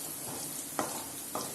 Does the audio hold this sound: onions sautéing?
yes